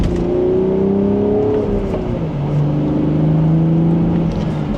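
BMW Z4 M40i accelerating in second gear in Sport Plus mode, its engine droning steadily and rising in pitch over a constant road and wind roar from inside the cabin.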